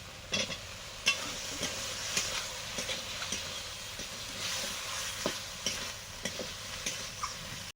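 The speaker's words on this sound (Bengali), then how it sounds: "এবারে দিচ্ছি আলু, সরু সরু করে কাটা, লম্বা লম্বা।" Thin, long-cut potatoes frying in a pan with a steady bright sizzle, punctuated by regular scraping stir strokes, close up and without voices.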